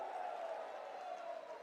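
Crowd at an Indian political rally applauding and cheering, a dense steady roar of clapping and voices at moderate distance.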